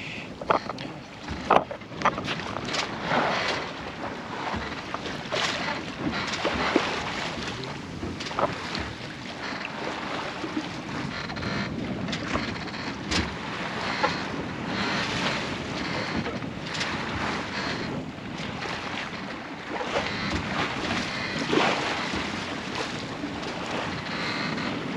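A Jeanneau Eolia sailboat out on its first sail of the season, moving through a sudden swell, with a steady rush of wind and water washing around the hull and heavy wind buffeting close to the microphone.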